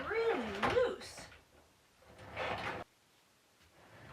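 A loose drawer slides open or shut in a home during a move, giving two short rubbing scrapes separated by a quiet gap, with a voice briefly audible at the start.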